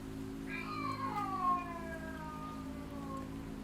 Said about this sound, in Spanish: De repente los gatos empezaron a maullar como si estuvieran en celo